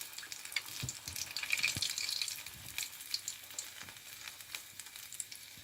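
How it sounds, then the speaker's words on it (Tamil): Steady crackling sizzle of spinach vada frying in hot oil, with scattered pops and spits throughout, close and moderately loud with no talking. "இப்படி பொரிக்க போடலாம்"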